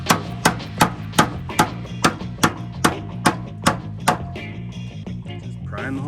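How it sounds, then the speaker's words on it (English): Hammer blows pounding apart a spot-welded car panel on an EJ/EG-engined car during engine swap prep: about eleven sharp, evenly paced metallic strikes close by, ringing briefly, followed by some lighter scraping. "should be able to just kind of put something in here and pound it"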